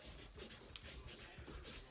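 Pen scratching across a sheet of paper as a word is written out, a steady close scraping and rubbing at low volume with no talking.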